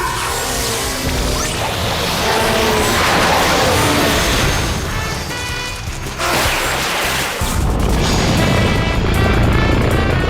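A loud, dense mechanical roar of a helicopter in flight during a race, with whooshing and crashing noises layered over it, continuous throughout with a brief dip midway.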